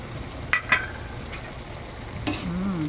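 Shrimp and sayote being stir-fried in a pan, with a soft continuous sizzle broken by a few sharp utensil scrapes and clinks, close and moderately loud.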